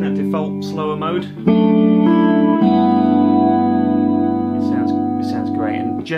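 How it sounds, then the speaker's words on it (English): An electric guitar plays sustained single notes through a slow chorus effect, the notes ringing full and shimmering with a wide, swirling thickness; someone talks briefly before and after the playing. "I like to have a little bit of chorus in there, because it really fattens up those single notes"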